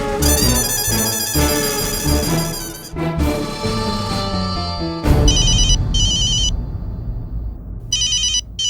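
A telephone rings loudly in repeated electronic bursts with short gaps between them, close and alone with no voices.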